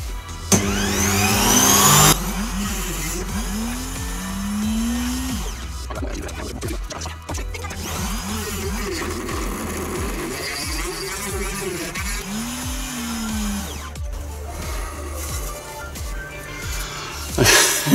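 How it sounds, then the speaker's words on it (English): A wood router fitted with a thinner, smaller bit cuts into wood while building a wooden handheld games console, a steady high motor whine with bursts of rising and falling pitch as the bit bites, loud and close. "just changing the router bit, going with a slightly smaller, slightly thinner router bit"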